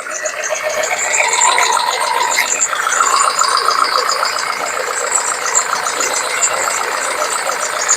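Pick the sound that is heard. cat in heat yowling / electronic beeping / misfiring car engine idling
misfiring car engine idling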